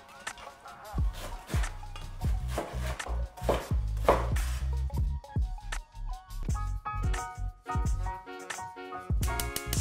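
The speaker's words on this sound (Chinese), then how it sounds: "之後再將豬肉切碎" Pork chopped with a knife on a cutting board, a long run of close, sharp, rhythmic thuds of the blade striking wood, steady and fast throughout.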